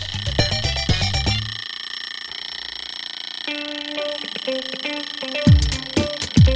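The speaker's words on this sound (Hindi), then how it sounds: "ये अलार्म बंद क्यों नहीं हो रहा?" An electronic alarm beeps in quick repeated bursts, pauses while a tonal pattern plays, then sounds again near the end.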